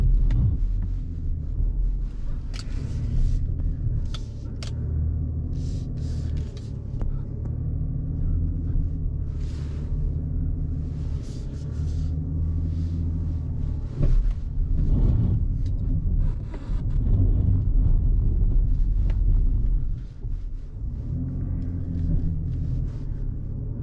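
A 2021 GMC Canyon AT4 pickup climbs an off-road slope at full throttle in four-wheel drive auto, its engine a continuous heavy, low rumble that swells and dips as it strains, with some wind noise and no talking.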